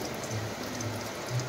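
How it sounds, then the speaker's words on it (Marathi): Heavy monsoon rain falls in the Konkan hills, a continuous, even hiss of rain on surfaces that holds steady and moderately loud throughout, with no talking. "आणि पाऊस खूपच आहे."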